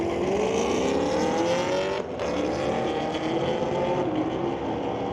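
Chevrolet Camaros, a 2011 Camaro SS against a 2022 Camaro, roaring down a drag strip, with a sustained loud engine drone whose pitch climbs through gears with a brief dip around two seconds.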